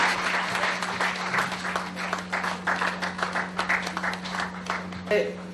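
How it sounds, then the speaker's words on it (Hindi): An audience claps to welcome a guest at a Hindi-language awards ceremony, with dense, sustained applause that rises and falls in rippling bursts over a steady mains hum, ending with a brief tonal sound. "गुजारिश करूंगा कि जोरदार तालियां से स्वागत करें"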